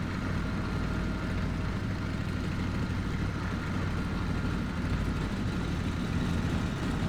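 An aircraft engine drones in the IL-2 Sturmovik (2001) flight-simulator game, a steady, unbroken rumble that holds at a constant level throughout, with no voices.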